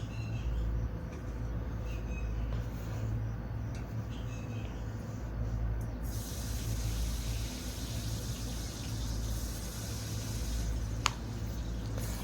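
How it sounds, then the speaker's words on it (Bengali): Cut potatoes fry in a couple of spoons of hot white oil for a vegetarian potato and okra dish, giving a faint, steady sizzling hiss that continues throughout. "এখন আলুটাকে ভালো করে ভেজে নেব।"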